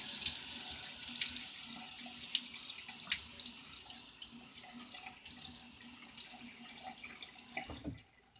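Water runs steadily from a bathroom tap into a sink while a face is wetted before shaving, with splashing and dripping over several seconds before it stops.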